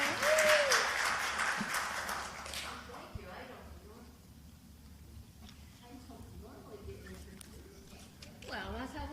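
An audience claps for a platform assistant at a live musical presentation, a loud burst of applause that swells at the start and fades after about three seconds into quieter room noise and murmuring voices.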